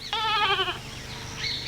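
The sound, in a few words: tethered goat bleating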